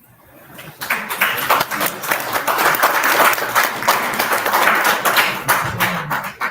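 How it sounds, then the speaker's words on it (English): An audience at a security summit applauds a presenter, clapping that swells quickly from quiet into a loud, sustained crowd ovation and tapers slightly at the end. "let's give Oral a round of applause"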